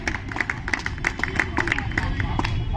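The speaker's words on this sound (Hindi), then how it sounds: "एक बार तालियां बजाइए, मैं शुरू होता हूँ।" An audience at a Hindi comic poetry gathering claps in scattered, lively applause with murmuring voices underneath, the clapping continuous but not very loud.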